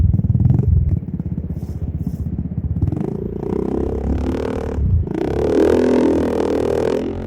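Honda Beat Fi scooter fitted with a Vario 2018 headlight cowl running on a test ride, its small engine buzzing steadily and close with a rising, fluttering tone and rattly clatter as it pulls away.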